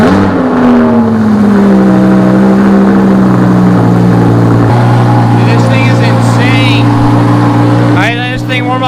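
A straight-piped Lamborghini Huracan cold-starting indoors: a very loud, deep engine roar that settles into a steady rumbling idle, with a sharp rev blip near the end.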